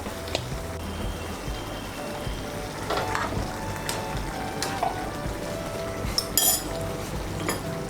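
Ghee and garam masala powder sizzle steadily in a pan, with a spoon or spatula stirring and clinking against the metal now and then, close by and without speech.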